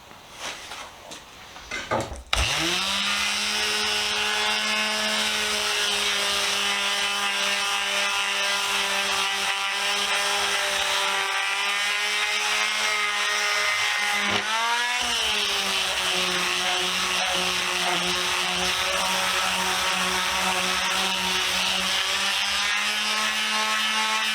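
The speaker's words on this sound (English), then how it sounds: "I'm going to go over the rest of it with a palm sander" A palm sander works over a cracked pan, starting abruptly after a short scrape and holding a loud, steady motor whine with a brief dip partway through before running on unchanged.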